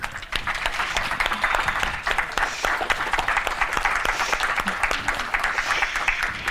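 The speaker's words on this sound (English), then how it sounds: "Can we give them a round of applause and thank them?" A room of conference attendees gives sustained applause for volunteers at a closing ceremony, dense steady clapping throughout at moderate loudness.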